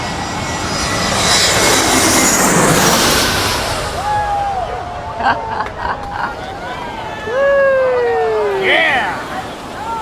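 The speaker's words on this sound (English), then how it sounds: "here comes the plane" An airplane roars overhead near a cruise ship, its loud engine noise swelling and fading, while a siren-like wail and a person's voice follow afterward.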